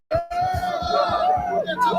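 Busy babble from a crowd of about thirty people in a room, close and lively with overlapping voices and occasional shouts.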